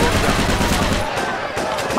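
Gunfire in the Mafia II video game, a dense burst of loud shots over a continuous roar of game noise, with a brief lull midway before more firing.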